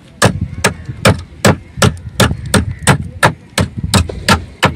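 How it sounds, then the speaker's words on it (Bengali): Sharp metallic hammer blows ring out one after another, about a dozen strikes in a steady rhythm, close and loud, as nails are pried from a boat at Digha. "একটু হাতুড়ি দিয়ে তুলবো"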